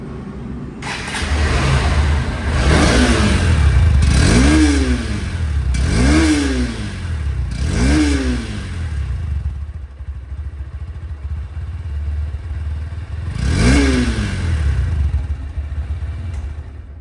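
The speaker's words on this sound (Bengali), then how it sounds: "এই বাইকটির সাউন্ড দেখার কি প্রয়োজন আছে" A used Honda Hornet 2.0 motorcycle engine revs repeatedly, rising and falling in quick bursts, loud and close, then idles before one more rev.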